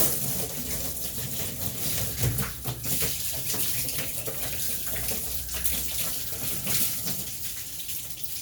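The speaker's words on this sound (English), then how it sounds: "let's hit it with water again" Water sprays steadily and splashes against a car's waxed paint, a continuous gushing hiss that surges and eases slightly over several seconds.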